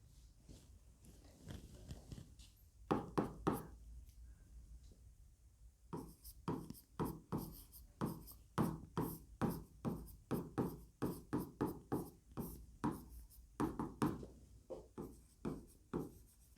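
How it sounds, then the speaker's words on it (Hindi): Pen or pencil writing notes on paper in a quiet room, with a steady series of short scratchy strokes building into rapid rhythmic bursts, close and fairly faint, with no talking. "जो हमने अभी पढ़ा है उसको एक बार लिख लेते हैं।"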